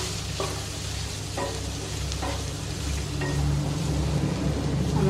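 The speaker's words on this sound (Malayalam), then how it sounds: "ഇതെല്ലാം കൂടെ ഇളക്കി കൊടുക്കുക" Kashmiri chili powder and a pinch of garam masala being stirred through in a hot pan, a steady low sizzle with repeated scraping strokes of the spoon, close and continuous with no voices.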